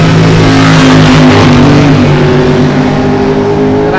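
A flatback Ford Mustang drag car with a 351 Cleveland engine and automatic transmission roars off the starting line at a drag strip, loud and sustained with the engine note climbing through the run.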